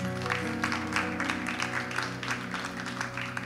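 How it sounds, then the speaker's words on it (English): An audience at a church gathering claps for a woman who has just shared her story, the fairly soft clapping pulsing over sustained musical tones. "Give Lesa a hand clap."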